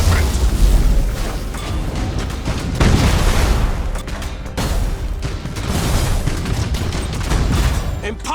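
Thunderhawk bombardment in Battlefleet Gothic: Armada 2, a dense, continuous barrage of loud booming explosions and rumbling blasts that swells and dips over several seconds, with battle noise layered throughout.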